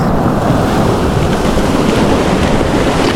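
Strong ocean waves on a Palawan fishing shore roar in a dense, continuous wash of surf, loud and close with wind buffeting the microphone, no voices.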